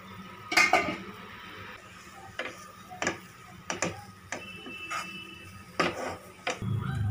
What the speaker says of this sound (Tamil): நம்ம லிட் ஓப்பன் பண்ணிடலாம்